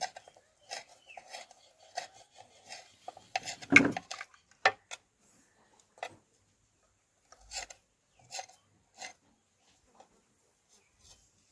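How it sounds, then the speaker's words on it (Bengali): A knife finely chops fresh coriander leaves on a board. The quiet, uneven taps come in short clusters, with one sharper knock midway and long silent gaps between. "একদম কুচি কুচি করে কেটে নেবো এইভাবে যতটা পারি একদম কুচি কুচি কুচি কুচি করে কেটে নেব"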